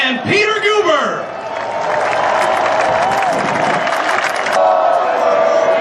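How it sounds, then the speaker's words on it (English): A huge crowd at the Golden State Warriors 2017 championship celebration cheers and applauds loudly and continuously, with whistles and shouts rising over a sustained roar. "Not a bad crowd."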